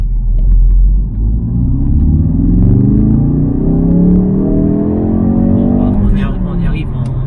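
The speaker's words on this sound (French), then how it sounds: "On va donc faire une petite reprise en partant de 20 km/h jusqu'à 80 pour voir ce que la voiture a dans le ventre et la sonorité du moteur." A Ford Focus RS MK3 accelerates hard from 20 to 80 km/h, its engine note climbing steadily in pitch as it pulls through the gears, loud and close with a deep rumble underneath.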